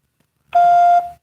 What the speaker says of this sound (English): you can leave your tip following the beep